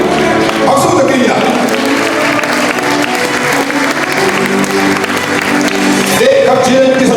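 Loud, sustained clapping rises from the audience at a Korean business association's chairman inauguration ceremony, with scattered whoops and murmuring voices mixed in. Music plays faintly underneath.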